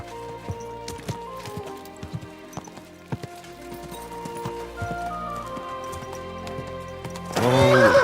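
Horse hooves clip-clop at a steady walking rhythm in Kingdom Come: Deliverance II, backed by soft music, and a loud, close whinny bursts out at the end.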